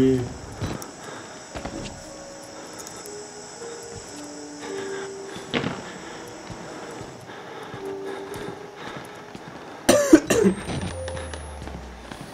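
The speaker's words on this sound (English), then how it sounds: "I'm really sorry for the coughing." Several coughs come in short bursts amid faint game sounds and footsteps, one loud harsh cough near the start and more later.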